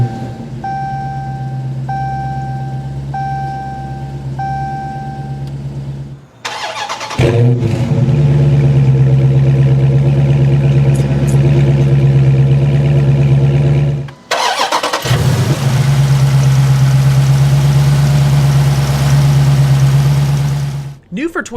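A 2015 Dodge Charger R/T Scat Pack with the 392 Hemi V8 is push-button started, the engine firing up and settling into a loud, steady idle, with a brief dip before it restarts and idles again at close range.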